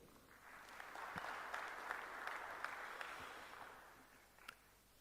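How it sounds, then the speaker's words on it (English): Audience applause for the panelists at the close of a national dialogue on coalition government, a steady wash of many hands clapping that holds for several seconds and then fades slightly, with no one speaking over it. "A big round of applause to them."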